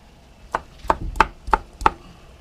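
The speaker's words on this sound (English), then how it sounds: "I'm just gonna chop it up like a mashed potato and throw it back in there" Five sharp knife strikes on a cutting board while a potato is chopped for Ukrainian borscht, evenly spaced, close and crisp with quiet pauses between.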